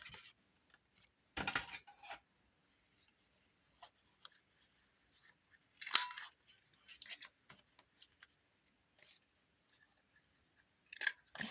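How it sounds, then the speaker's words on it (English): Scissors snipping through very soft paper during a craft session, a few short dry cutting bursts separated by quiet pauses, close and fairly faint with small handling clicks in between. "This paper doesn't cut very well."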